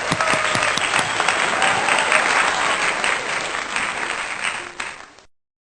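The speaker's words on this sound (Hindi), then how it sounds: "तालियां।" A congregation at an online Sunday worship service claps together in steady, dense applause for about five seconds before it ends abruptly.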